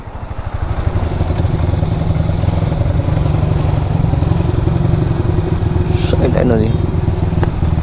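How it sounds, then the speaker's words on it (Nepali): Motorcycle engine idling and revving close by at the start of a road trip from Kathmandu toward Pokhara, a steady loud throbbing rumble with clatter and a brief rising rev near the end, while a person talks over it. "हाम्रो बाइकहरू यहाँ छ"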